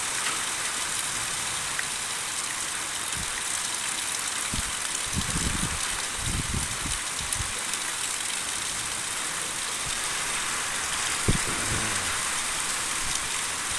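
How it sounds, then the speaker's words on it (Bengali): Heavy rain pours steadily in a light storm, a dense continuous hiss of falling water, with a few low thumps and an engine-like rumble briefly under the downpour. "হ্যাঁ, প্রচুর পরিমাণে বৃষ্টি হচ্ছে।"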